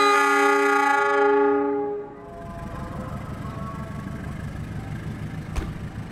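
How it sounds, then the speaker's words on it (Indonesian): The Brawijaya executive train set is pulled out of Gambir station toward the Jakarta Kota depot, opening with a long, loud sustained horn that cuts off. A steady rumble of rolling wheels follows, with a brief sharp clank near the end. "Sekarang ini perjalanan kereta api Brawijaya, rangkaiannya ditarik menuju Depo Jakarta Kota untuk istirahat"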